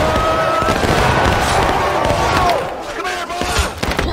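Musket volley fire in the Civil War game War of Rights: a loud, dense crackle of many shots over a sustained battlefield din, with shouted commands and voices mixed throughout.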